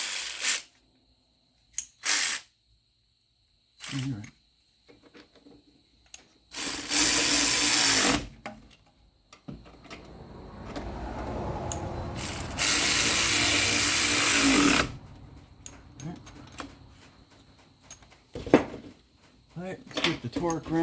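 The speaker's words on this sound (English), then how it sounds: "I've got my ratchet now." A battery-powered ratchet runs in several bursts on the rear brake bolts of a 1996 Ford Mustang, close and loud, with clicks, clanks of tools and pauses between the whirring runs.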